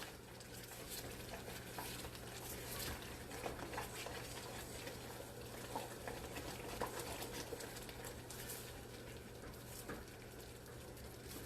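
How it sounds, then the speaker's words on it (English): Chocolate fudge syrup boils in a pot, giving a faint, continuous bubbling sizzle with soft pops and occasional stirring scrapes, steady throughout with no talking. "once it starts boiling like this"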